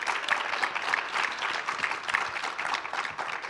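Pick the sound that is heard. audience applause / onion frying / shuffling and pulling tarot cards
audience applause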